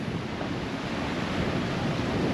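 Ocean surf rolls onto a beach under strong east-northeast wind buffeting the microphone, a steady loud roar of waves and gusts throughout with no voices.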